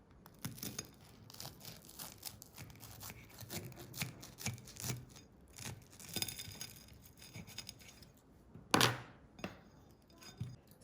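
Knife cutting through a grilled cheese egg salad sandwich: close crackly scraping and crunching strokes in irregular bursts, ending in one louder sharp crunch near the end.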